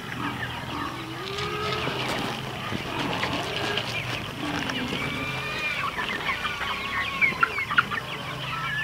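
Chickens cluck and chatter outdoors in a farmyard, a busy overlapping flock of short calls close by, growing livelier with a few louder squawks toward the end.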